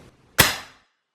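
A single sharp, muffled shot from an airgun fitted with a Taipan Veteran suppressor cracks close by and fades quickly with a brief ringing tail.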